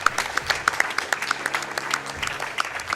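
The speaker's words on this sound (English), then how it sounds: "I don't know what you're clapping for." Crowd applause at a Summer Games Done Quick speedrun marathon, a brief round of audience clapping with scattered distinct claps, moderately loud and sounding from a large room.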